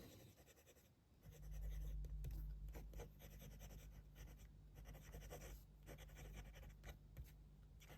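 An Incognito fountain pen with a medium steel nib scratching across paper in steady writing strokes, faint and close, with a low hum underneath and no speech.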